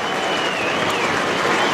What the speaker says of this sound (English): it is a celebration all about Selwood as he acknowledges the crowd being brought off the ground.